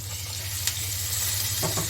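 Bata fish fries in a pan over low heat, giving a steady, even sizzle that holds without a break, close by and with no talk.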